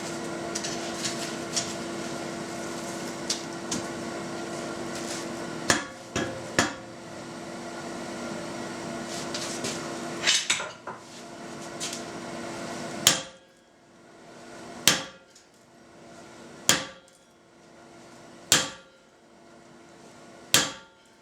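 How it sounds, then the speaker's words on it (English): Steel hammer blows strike a felling wedge on an anvil, first as scattered clanks amid workshop hum, then as five loud, evenly spaced ringing strikes standing alone against a quieter background. "then I'll hammer on the warm or on the cold end"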